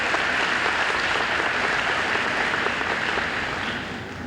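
Dense, steady applause from a large crowd at a high school graduation ceremony, loud and continuous before tapering slightly at the end.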